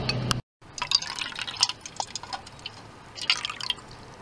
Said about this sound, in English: Now fill your other plastic cup with half the water.